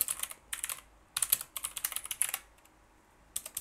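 Close, crisp clatter of fingers on a computer keyboard during touch-typing practice, arriving in quick uneven bursts of keystrokes separated by short pauses.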